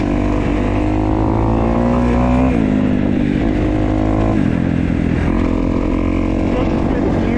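A 2015 Kawasaki KX250F dirt bike is ridden up through the gears. Its loud engine climbs in pitch, drops at each shift, then climbs again, close and continuous.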